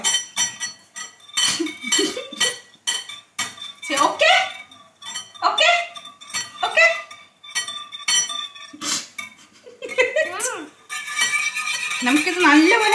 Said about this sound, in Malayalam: നമുക്കിത് നല്ലപോലെ കലക്കണം.